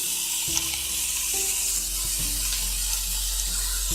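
Mixed vegetables frying in a pan for Indian-style masala pasta, a steady bright hiss of sizzling oil with a few soft clinks and stirring knocks, close and continuous.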